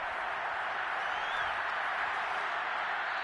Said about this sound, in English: They're going to give out a little applause on that play.